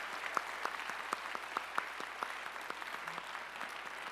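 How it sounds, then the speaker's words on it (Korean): A church congregation at a Sunday worship service claps to welcome guests, a soft, scattered patter of hands with some sharper individual claps, faint and steady throughout. "우리 환영의 박수 함께 하겠습니다."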